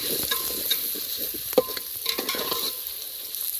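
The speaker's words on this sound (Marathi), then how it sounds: "ही आपली कोथिंबीर, टमाटर, पुदिना आणि पुदिना आणि ना कोथिंबीर मिक्स करले मित्रांनो. त्याला मस्त हलवून घ्यायचं." Coriander, tomato and mint stirred in a pan as they fry, a steady sizzle with scraping spoon strokes and one sharper clack midway, close and alone without voices.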